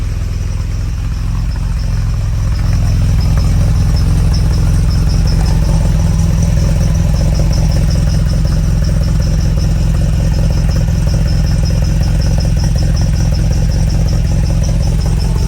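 A restored 1967 Volvo Amazon wagon idles steadily after a cold start on the choke, its sport exhaust giving a loud, continuous low rumble with a faint clatter from start to finish.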